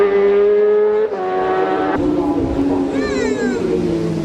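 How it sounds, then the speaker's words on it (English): A Suzuki race motorcycle at the Manx Grand Prix Senior Race pulls away with its rev limiter cutting in, a loud, high, buzzing engine note held at a steady pitch and stepping through rising shifts as it heads back onto the circuit. "just leaving with his rev limiter doing its job and back out onto the circuit"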